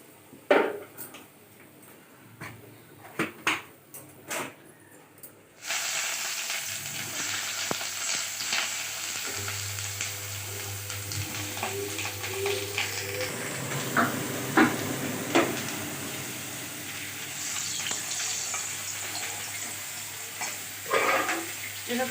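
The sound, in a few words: frying brinjal in a wok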